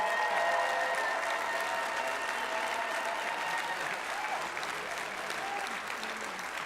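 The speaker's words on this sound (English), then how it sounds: "Let's give them a huge round of applause" A large audience at a 2016 Wisconsin regional opening ceremony rises and applauds the Dean's List semifinalist students. The clapping is dense and sustained throughout, easing off slightly toward the end.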